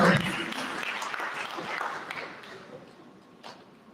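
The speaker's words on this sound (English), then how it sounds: "Now, I want you all to give her a round of applause" Applause from the audience at a tourism product launch event, loud at first and then thinning out over a few seconds as the clapping fades, with talk in the room underneath.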